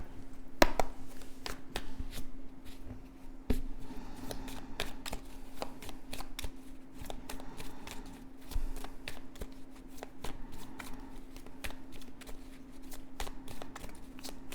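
Oracle cards are shuffled for a 13-card spread, a continuous close rustle of riffling and sliding cards with occasional sharper taps, no voices.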